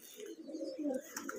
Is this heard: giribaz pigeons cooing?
yes